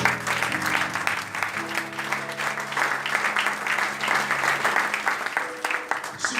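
Church congregation clapping steadily to acclaim the Lord, a dense sustained applause with sung or organ-like tones running underneath throughout.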